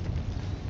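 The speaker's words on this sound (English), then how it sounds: "Okay, explosion killed me." A single deep, rumbling blast from an explosion in the video game Helldivers, dense and boomy for under a second with no voices.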